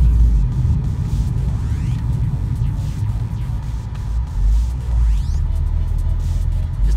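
Mitsubishi Evo X engine droning at high RPM at highway speed, a steady loud low rumble with road noise throughout and no talk.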